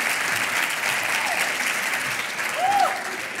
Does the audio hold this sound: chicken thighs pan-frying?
no